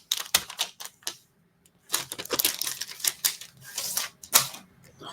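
Paper packaging being torn and crinkled open around a thick square-bound comic book, a series of sharp rips and rustles in short bursts with a brief pause, close and fairly quiet.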